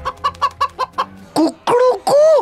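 A man imitates a rooster with his voice: a run of short, rhythmic clucking syllables, then three drawn-out, loud crowing calls rising and falling in pitch, close to the listener.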